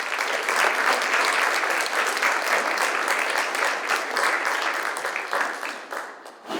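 An audience at a business presentation session applauds steadily and densely for about six seconds, the clapping dipping briefly near the end and then picking back up.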